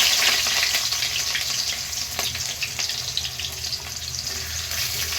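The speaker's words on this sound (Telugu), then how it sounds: "ఆయిల్ అయితే హీట్ అయిందండి దీనిలోకి ఆనియన్స్ వేసుకుంటున్నాను" Chopped onions fry in hot oil for an Andhra-style chicken curry, producing a close, crackling sizzle that stays steady, with scattered sharper spatters.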